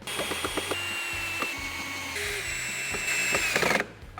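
A cordless power drill set to around speed 10, its lowest setting, during a cornhole board build. It gives a steady close whine with a faint pulsing rhythm, then cuts off sharply near the end.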